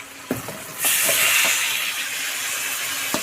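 Chicken pieces poured into a hot kadai for chicken kosha, with a few clacks followed by a sudden, loud, steady hiss of sizzling that carries on to the end.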